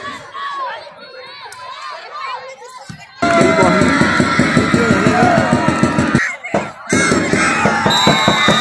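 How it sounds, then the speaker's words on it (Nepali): Students' crowd hooting and cheering at a school volleyball match between two secondary schools. After a quieter stretch of scattered voices, it bursts into a loud, sustained roar of shouting and cheers, with a couple of brief dips. "हुटिङ चलिरहेको छ"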